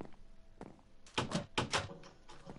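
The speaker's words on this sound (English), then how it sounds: "Close the door on me." A door closing in the Minecraft video game gives a short cluster of soft, clicking thumps near the middle, fairly faint, with a lighter knock just before and after.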